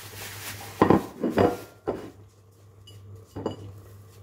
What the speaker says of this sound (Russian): Сейчас я тарелочку достану.